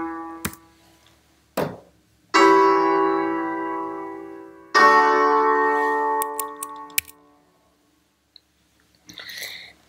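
A diminished fifth chord built on the leading tone, struck twice with each chord ringing out and fading, preceded and followed by a few faint clicks and taps.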